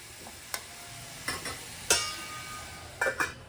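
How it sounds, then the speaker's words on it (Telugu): Bottle gourd pieces are stirred in a cooking pan with a utensil in a few separate scraping strokes, spaced irregularly and fairly close, over a faint sizzle with no talking. "ఒకసారి మళ్ళీ కలుపుదాము"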